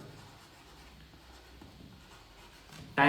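Someone writes on a board with a faint, steady scratching that continues under a low background hiss, then ends in a sudden loud knock.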